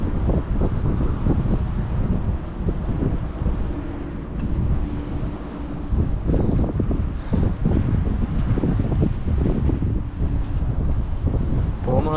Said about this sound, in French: Il y a une bonne vent du sud qui nous ramène toutes les merdes de la mer, toutes les herbes.